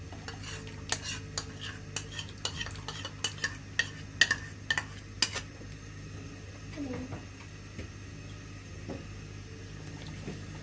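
A spoon stirs a thickening malai cream mixture for homemade ice cream in a pot, with a run of sharp metallic scrapes and clinks in an irregular rhythm, faint and close, over a low steady hum.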